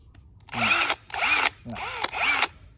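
A cordless drill with a built-in light whirs in four short bursts, each spinning up and cutting off, close and clear with brief silences between.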